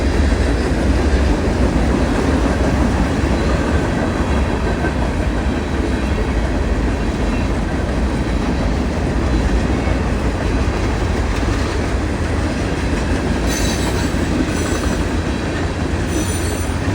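A loud, steady rumble of coal-loaded freight railcars rolling past close by at night, wheels clattering and rails squealing faintly toward the end.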